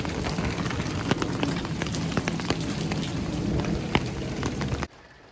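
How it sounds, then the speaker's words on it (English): Rain at night during a delivery in Northlake, a dense, loud, close patter with scattered sharp drop hits on a surface, running steadily and then cutting off abruptly near the end, with no talk. "Well, it's been a rainy night,"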